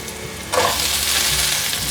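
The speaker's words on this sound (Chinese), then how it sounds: "炒至红萝卜变色，现在放入高丽菜" Carrot and cabbage stir-fried in olive oil in a pan: a sudden loud sizzle bursts in halfway through and holds steady with light stirring scrapes.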